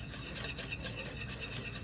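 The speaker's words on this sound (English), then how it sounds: "Give it a stir." A utensil stirs an emulsion of egg yolk and oil in a bowl, a steady, rhythmic scraping and swishing repeated several times at close range with nobody talking.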